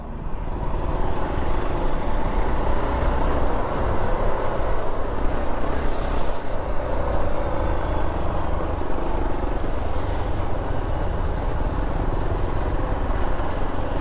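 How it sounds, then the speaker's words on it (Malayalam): A Hero XPulse 4V motorcycle engine runs steadily while being ridden, giving a continuous, close drone mixed with broadband wind rush that holds even throughout, with no talking. "ഇതിന്റെ എഞ്ചിന്റെ സൗണ്ട് ഇങ്ങനെ തന്നെ അല്ലേ?"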